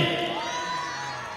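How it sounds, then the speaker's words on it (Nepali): An audience at a school cultural program in Damak, Nepal, cheers and shouts after a dance performance, a dense, loud crowd roar with youthful voices that stays steady through a short burst. "एकता एकाडेमीको यो प्रस्तुतिको लागि एकपटक जोरदार ताली"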